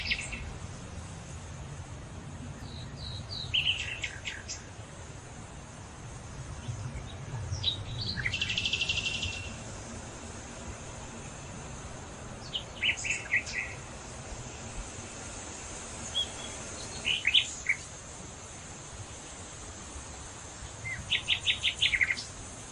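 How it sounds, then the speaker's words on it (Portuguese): Birds sing outdoors in nature. Scattered chirps and short trills come at irregular intervals over a steady, hissy ambient background, moderately faint and with no talk. "vocês ouviram sons, o quê? De pássaros, né?"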